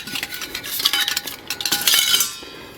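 Small metal parts of a Silver Fire Scout wood gas backpacking stove clink and rattle as they are fitted together and a pot is set on top, with a run of close, light metallic taps and scrapes and no talking.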